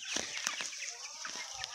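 Backyard chickens forage for worms and bugs among greenery, clucking softly in short bursts close by against a steady outdoor background.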